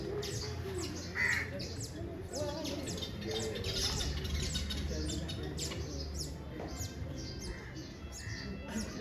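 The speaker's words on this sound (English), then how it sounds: "And then here there are so many birds." Many birds calling near a cave entrance on a Zanzibar trip, steady chirps and caws layered over a constant outdoor wash, moderately distant, with no talking.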